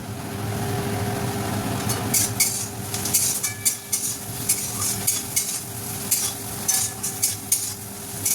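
Onions fry with a steady sizzle in a pan for dhaba-style dal fry, while a spoon scrapes and stirs in repeated clinking strokes close by.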